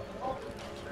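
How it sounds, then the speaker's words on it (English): Horse hooves clip-clop in the medieval combat game Mordhau during Invasion mode, as a brief burst of galloping footfalls mixed with shouting voices. "the horse! The horse!"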